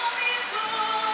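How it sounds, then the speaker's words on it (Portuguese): Steady rain falling on a surface, a dense continuous hiss without breaks, fairly loud and close, with no voice over it. "a zoada da chuva"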